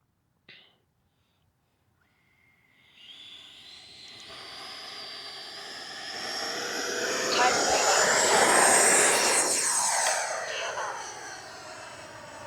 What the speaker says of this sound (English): this is the maiden flight of the FREEWING Avanti version 2